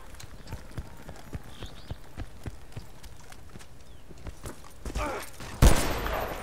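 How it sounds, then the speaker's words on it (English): Rapid, evenly spaced footsteps of an enemy player in Battlefield Bad Company 2 tap along steadily, fairly faint under game ambience, ending with a sudden loud burst of noise. "He thinks I can't hear every little footstep he makes."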